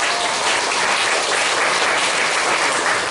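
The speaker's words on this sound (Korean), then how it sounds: "전도 일선에서 수고하고 있는 모든 국제가정 선교사분들께 큰 응원의 박수를 부탁드립니다." A church congregation at a Sunday service in Pyeongtaek claps for missionaries, a dense, steady wash of many hands that stays loud and unbroken throughout.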